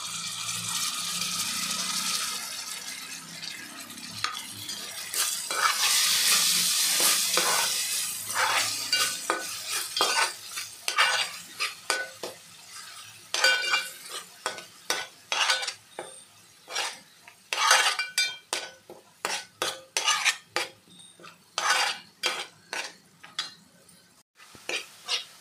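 Ground masala paste is stirred and fried with sautéed onion and tomato for prawn masala. A steady sizzle gives way to a run of sharp, rhythmic spatula scrapes against the pan, close and fairly loud.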